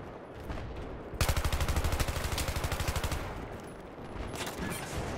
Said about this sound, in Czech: A už po mě střílí minometry